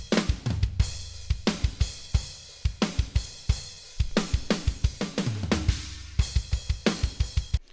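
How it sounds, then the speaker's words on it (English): Raw multitrack rock drum recording of toms, snare, kick and overhead mics playing together, loud punchy hits with rolling tom fills and a driving rhythmic pattern, big and roomy, with no other instruments. "let's hear the toms, snare, kick, and overheads."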